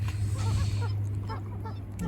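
Runner ducks call from close by in the snow, a run of nasal honking quacks over a steady low hum, filling the whole stretch with no voices.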